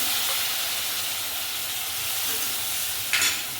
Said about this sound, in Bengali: এবার এর মধ্যে একটু গরম জল দিচ্ছি